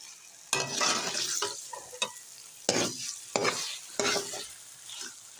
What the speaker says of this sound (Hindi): यहाँ गाजरें माशाल्लाह इनकी भुनाई जा रही है